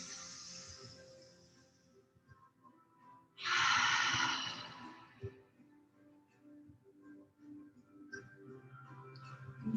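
One deep breath pushed out in a single strong, close exhale during a yoga session, surrounded by quiet room tone and faint ticking.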